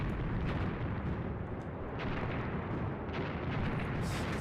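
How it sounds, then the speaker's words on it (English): An artillery strike rumbles across a Graviteam Tactics: Mius Front battlefield, heavy booms and crackling blasts rolling continuously in a thick, loud barrage with repeated swells. "That's the artillery strike coming in over there."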